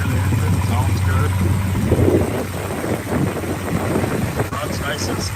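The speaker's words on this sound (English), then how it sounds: "there's the engine, sounds good." Muscle car fitted with headers idling, a steady low engine rumble with wind buffeting across the microphone, loud and close, with someone talking over it.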